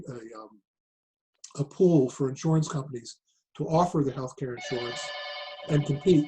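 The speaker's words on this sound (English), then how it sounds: "Apologize for the phone." A desk telephone rings with a steady electronic bell tone for about two seconds near the end, loud over a man's ongoing lecture speech.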